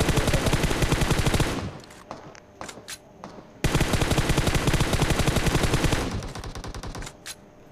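Loud bursts of rapid automatic gunfire in the video game PUBG, with a few short pauses and scattered single shots between volleys.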